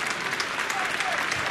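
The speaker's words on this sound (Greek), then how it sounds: "Και χειροκροτείται από τον κόσμο." A football stadium crowd in a Xanthi–Olympiacos match applauds a goal scorer with steady, loud clapping under a commentator's voice.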